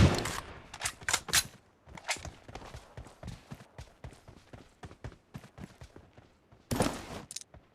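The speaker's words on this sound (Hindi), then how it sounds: "फिर आगे गोली चलने की आवाज़ आती है।" Gunfire in the mobile battle-royale game PUBG Mobile crackles in sharp, close bursts, with a loud rapid volley at the start, scattered single shots and short strings through the middle, and another heavy burst near the end.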